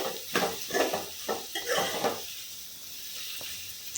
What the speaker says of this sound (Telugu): ఇలా మనకి కలుపుతుంటే కూడా మనకి వెజిటేబుల్స్ అనేవి కుక్ అవుతూ ఉంటాయి